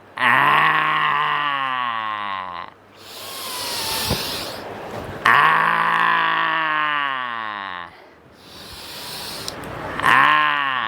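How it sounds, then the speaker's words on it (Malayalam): Two long, loud forced exhales through an outstretched tongue in the yoga lion breath, with a rough, groaning roar-like quality, each followed by a breathy hissing inhale, repeated in a steady rhythm. "മാക്സിമം ശ്വാസം എടുത്ത് നാവ് മുഴ പുറത്തിട്ട് ഗർജിക്കുക"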